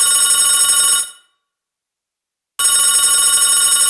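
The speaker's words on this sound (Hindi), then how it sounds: "अभी वो यही सोच ही रही होती है कि उसके फोन की बेल बजती है" Telephone bell ringing in a movie, a loud, close, bright metallic ring that stops for about a second and a half of silence, then starts again.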